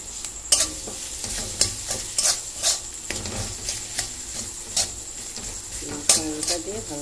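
Spiced mashed potato is stirred in a frying pan, a spoon scraping and knocking against the metal in irregular strokes over a soft, continuous sizzle.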